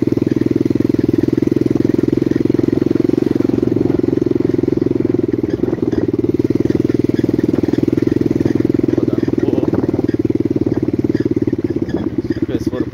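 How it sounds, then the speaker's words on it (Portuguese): A mini Honda CRF dirt bike runs steadily on a trail, its small engine droning loud and close throughout with little change in pitch, and faint voices underneath. "rodando um pouquinho com a motinha"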